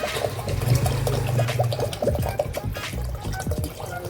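Water pours and splashes steadily into a cooking pot of nombu kanji, close and continuous, with faint bubbling and a few clinks.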